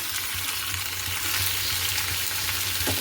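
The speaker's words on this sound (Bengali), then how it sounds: "এখানে এই যে আলু আর বরবটি ভাজা বসিয়ে দিয়েছি কালো জিরে ফোড়ন দিয়ে" Potatoes and long beans fry in a pan tempered with black cumin seeds, producing an even, steady sizzle with a low hum beneath it and no break.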